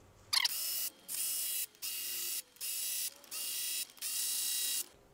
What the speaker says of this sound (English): let's break our bolt loose for our Vanos oil line